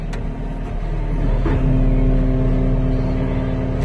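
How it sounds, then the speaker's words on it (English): Skid steer engine idling and running steadily close by on a job site, a continuous low rumble with a brief clunk partway through. "Having a skid steer on the job"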